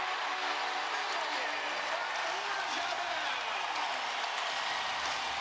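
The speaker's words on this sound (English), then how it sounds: "Here comes a big standing ovation" An NBA playoff crowd rises for a standing ovation, a dense, continuous wash of applause and cheering that holds steady and fairly distant for several seconds.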